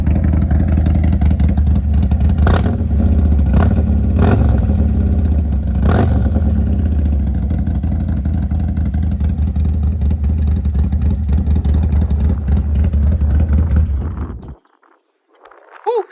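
Harley-Davidson motorcycle with a Bourbon exhaust idling with a deep, steady rumble, blipped with several sharp revs early on, then running evenly before cutting off abruptly near the end.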